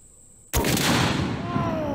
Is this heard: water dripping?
no